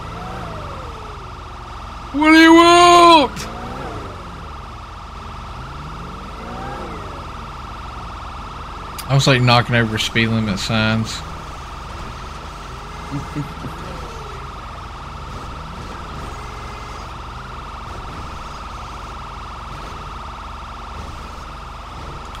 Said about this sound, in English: This cop has his siren like blasting.